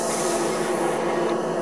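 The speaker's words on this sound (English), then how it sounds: "I can spray on it" Airbrush spraying very thin gray paint onto a 1/32 scale F-14 model kit, a steady close hiss with no gaps, with no talking over it.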